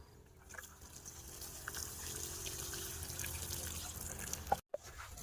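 Water pours steadily onto the soil around a newly planted banana tree, a continuous close splashing gush lasting throughout with a brief interruption near the end.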